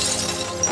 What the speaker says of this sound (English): I jumped back from the mirror as she smashed it.